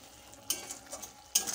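Spice masala stirred and frying in a pan for raw banana curry, a soft sizzle with brief louder scraping bursts of stirring, fairly quiet and close, with no talking.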